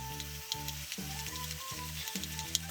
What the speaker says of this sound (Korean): 이렇게 우렁을 넣고 볶으면은요